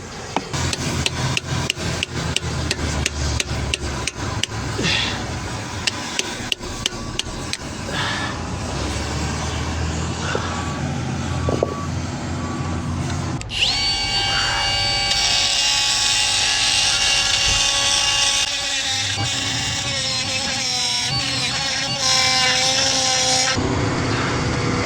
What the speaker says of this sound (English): Need a die grinder, and we gotta grind these burrs off of the hole as well.